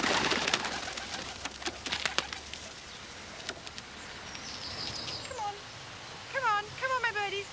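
Pet doves of a peace-group member at Fairford coo in a few soft, repeated rising calls near the end, after a stretch of clattering background noise and quiet ambience.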